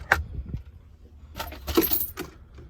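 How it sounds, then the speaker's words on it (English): A Jeep XJ shift knob and the plastic console surround by the 4-wheel-drive selector being pulled off: a few sharp plastic clicks and rattling jangles, close and intermittent with quiet gaps, no talk. "Okay, so I have to pull shift knob, pull the little surround here where the 4-wheel drive selector's at"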